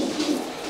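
A pigeon coos softly and briefly, a low, rounded burble over a light background hiss.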